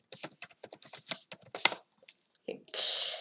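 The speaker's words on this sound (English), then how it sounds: "And I typed hello." Fingers type a word on a computer keyboard during a chess training livestream, a quick run of close clicky keystrokes followed by a pause, a few more taps and a brief louder rustle at the end.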